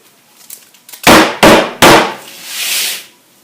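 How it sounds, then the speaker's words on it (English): A tray of strawberry macaron batter bangs against a kitchen counter three times in quick succession, each a sharp, loud knock with a ringing tail, followed by a softer scraping rustle. "Now I'm going to tap the tray a couple times on each side."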